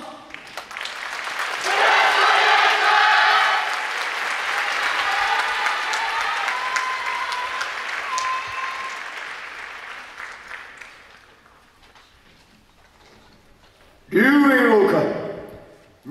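A large audience claps and cheers at the Yosakoi Soran festival, with a loud burst of applause that tapers off, then a sharp new surge of clapping near the end, mixed with crowd voices.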